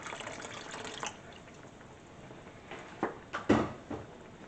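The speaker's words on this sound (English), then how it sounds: "You can also add in a little bit of water." Water splashes and drips into a pan of chicken tikka masala sauce in a few short bursts, with light clinks of kitchenware near the end.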